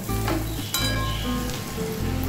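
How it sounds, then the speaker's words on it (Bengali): Batter-coated coriander leaves fry in hot oil, producing a close, steady crackling sizzle with a brief clatter as a piece is added or turned. "পাতার পোর্শনটা ভাজতে হবে"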